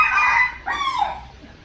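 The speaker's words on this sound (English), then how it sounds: "And look, there's some roosters in a cage." A caged rooster at a zoo in Thailand crows once, loud and close, with a strained, rising and then falling cock-a-doodle-doo that trails off, with no one talking.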